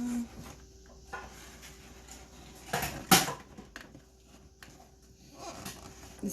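An old angel food cake pan is popped out of the cake, giving a few sharp metallic clanks and knocks with one loud clatter in the middle, separated by quiet pauses.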